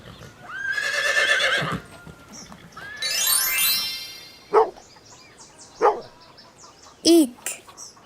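A domestic dog barks three short, sharp times, spaced about a second apart, after two long stretches of other animal calls.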